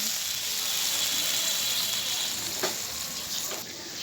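Masala spice paste fries in a pan with a constant close hiss of sizzling oil, broken briefly by a couple of soft stirring scrapes near the end.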